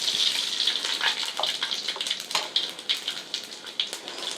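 Whole spices (fenugreek, fennel, cumin, nigella and radhuni) hit hot oil for a mustard hilsa curry, crackling and sizzling loudly up close in dense bursts that gradually settle, with no voices over it.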